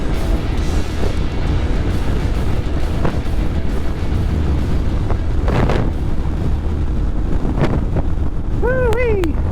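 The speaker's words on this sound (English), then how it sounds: "That wind. Blowing me around like a rag doll." Strong wind buffeting the microphone while riding a Honda ADV 150 scooter at speed, a loud, constant roaring rush mixed with engine and road noise, with a voice speaking over it.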